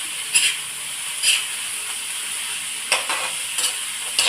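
Vegetables and rice noodles for pansit bihon gisado are stirred in a sizzling pan, with soft hissing broken by several brief stirring scrapes at irregular intervals.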